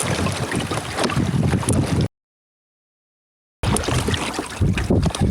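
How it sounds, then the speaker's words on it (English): Wind buffeting a microphone on a small sailboat out on the water in winter, a loud, steady, roaring rush that cuts out briefly to silence midway and then returns just as strong. "There seems to be a little breeze here."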